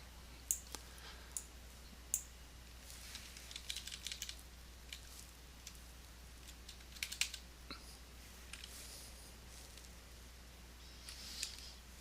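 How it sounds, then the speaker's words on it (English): Computer mouse clicking during photo editing at a desk, sparse, quiet, irregular clicks spread over several seconds, some in quick pairs, over a low steady room hum. "I'm using my mouse for now."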